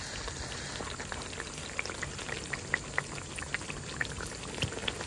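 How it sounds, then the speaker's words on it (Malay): Chili sauce poured into spice paste frying in oil for a Singapore-style chilli crab, giving a steady crackling sizzle with scattered sharp pops, close and moderately loud. "Lepas letak sos cili."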